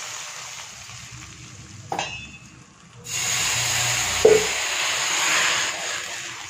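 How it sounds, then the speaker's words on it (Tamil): Fried tempering is poured into lemon ginger rasam with the stove off, setting off a sudden loud sizzle and hiss that rises after a few seconds of quiet kitchen handling and keeps steaming steadily. "இதை பாருங்கள், இப்போ வறுத்தது இதில் போட்டுடலாம்."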